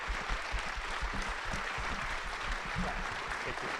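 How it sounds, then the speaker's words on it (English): A debate audience applauds the candidates at a 2023 Republican congressional debate for the 2nd District. The clapping is steady, dense and fills the whole stretch without a break. "Please join me in applauding all of these wonderful candidates."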